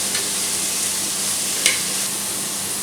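Onion sautéing with a pinch of salt in a pan for a cooker egg roast: a steady broadband sizzle with a brief stirring scrape partway through, close and alone with no talking.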